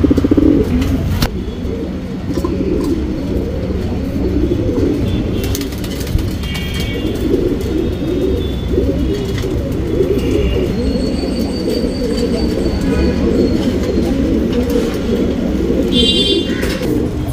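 Tournament pigeons coo in soft, repeated rolling bursts over a steady low background hum, with some brief flutters and faint chirps nearby.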